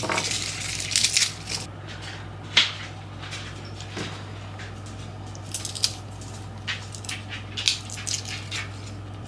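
Garlic cloves being peeled by hand in a home kitchen, scattered close dry crackles, papery rustles and small snaps of skin, with a few louder clicks and no voices.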